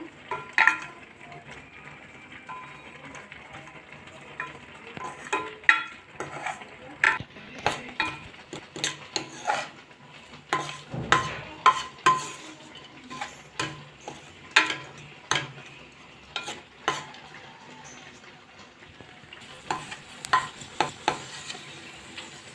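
Dry fruits fry and sizzle in a stainless steel kadai while a ladle stirs and scrapes against the metal in repeated sharp clinks over a steady low frying hiss.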